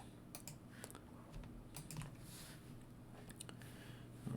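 Sharp clicks from a computer mouse or keyboard tap out a scattered series of light, close taps over faint room hum.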